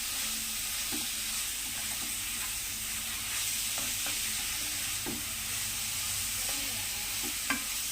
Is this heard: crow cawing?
no